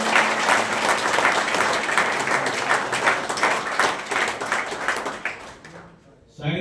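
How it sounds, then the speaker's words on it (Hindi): Loud applause from a crowd at a school annual celebration and award ceremony, a dense steady patter of many hands clapping that fades out near the end, with some voices mixed in. "उनके लिए एक बार जोरदार तालियां"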